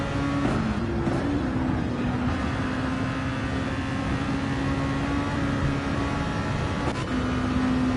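Race cars in Gran Turismo 7 at Circuit de Sainte-Croix, one following closely behind another, give a steady, continuous engine drone with shifting pitch throughout. No one speaks.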